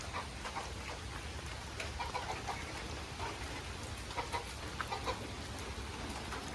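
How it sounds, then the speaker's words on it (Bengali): Farm hens and a rooster clucking intermittently through steady rain falling on a rural Bangladeshi farm, the birds soft and mid-distance beneath a constant wash of raindrops. "আমাদের ফার্মি মুরগি"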